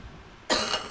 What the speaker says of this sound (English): I apologize if I have to cough